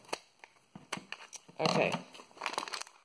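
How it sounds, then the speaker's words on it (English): Scissors cut open a plastic Lego Batman Movie minifigure blind bag, with crisp crinkling and snipping up close, one louder burst of rustling plastic, and a person speaking briefly. "I'm just gonna go ahead and open this up with scissors"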